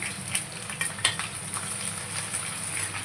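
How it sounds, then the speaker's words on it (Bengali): Onions sizzle in hot oil in a pan for mutton mince, with a steady close frying hiss and a few light clinks of a utensil stirring, and no voices. "তেলটা গরম হয়ে গেছে আমি পেঁয়াজগুলো দিয়েছি"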